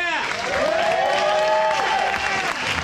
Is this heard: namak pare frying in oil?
no